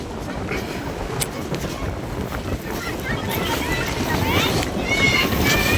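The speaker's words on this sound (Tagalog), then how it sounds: "Ito yung bangka." Outdoor boat sounds on open water off Guimaras island, with steady wind rumble and engine drone, a few sharp clunks early on, and rising bird-like whistles toward the end.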